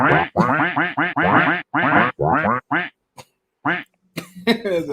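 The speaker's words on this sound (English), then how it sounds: "I'm guessing those is big ducks." A duck quacking as a sound effect, with a rapid loud run of nasal quacks that breaks into scattered, spaced calls toward the end, close and clear with no talk over it.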